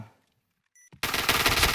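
Rapid automatic gunfire in the Point Blank online shooter bursts in loud and dense after a near-silent lead-in with a brief electronic beep, continuing as sustained close firing to the end.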